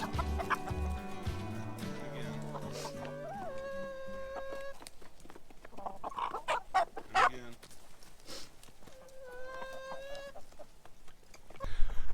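Chickens cluck and squawk nearby in a busy, irregular stream of calls, with a dog or other noises briefly in the mix.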